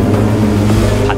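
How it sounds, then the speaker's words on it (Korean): A motorcycle engine drones steadily at close range, a low harmonic hum holding across the whole short moment with no voices. "오토바이를 타고 나가는 금주"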